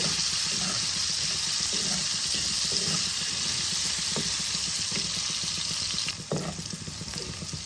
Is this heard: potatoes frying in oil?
yes